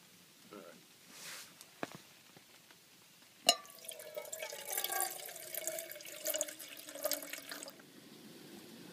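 Water pours and trickles into an MRE cereal pouch, a splashing gurgle building after a sharp tap, with soft handling noises and faint speech-like sounds.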